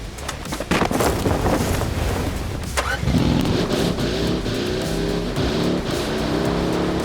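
A buggy drives in the PUBG video game, its engine droning and revving steadily with rushing wind noise and a shifting pitch as it speeds along, loud and continuous with no talking.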